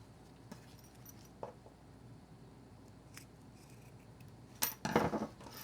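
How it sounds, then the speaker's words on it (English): Scissors trimming the overhanging tape of a zipper, with a few soft isolated snips spread out in a quiet room and a louder cluster of cuts and handling near the end. "I'm going to take my scissors and I'm going to trim the overhang of the zipper tape so that it's even with the long edge"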